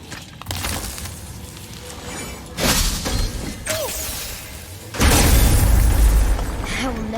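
Objects shatter in the video game God of War with heavy crashing impacts and booming bursts, several loud hits spaced out over rumbling game ambience, the biggest near the end.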